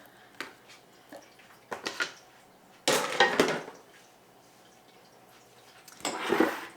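A roast and carrots drop into a skillet with soft thuds, followed by bursts of hissing sizzle and a few clinks, loud and close, with pauses in between and no talk.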